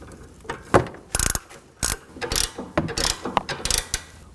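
A ratchet wrench tightens a sway bar link fastener on a 2020s Toyota Corolla, with several sharp bursts of clicking in quick, uneven strokes, close and fairly loud, and no talking.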